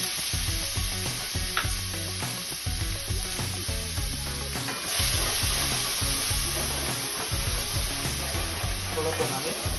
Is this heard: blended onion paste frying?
yes